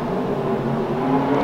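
Cars racing at a nearby racetrack produce a steady, distant engine drone and whir, continuous and moderately loud over the brief moment, without speech.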